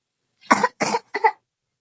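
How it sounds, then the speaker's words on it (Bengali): A child's cough, three quick, close harsh bursts in succession, alone in an otherwise silent moment. "ও কাশতেছে, তোমার কি হয়েছে?"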